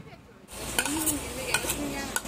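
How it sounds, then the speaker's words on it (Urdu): A spoon stirs tomato paste into a potato and taro (arvi) masala in a pan, with soft scraping and gentle sizzling after a quiet start and a few sharper clinks of utensil against the pan. "اس کو بھی مکس کرنا ہے اچھے سے۔"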